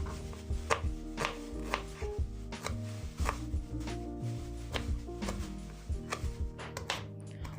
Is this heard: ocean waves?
no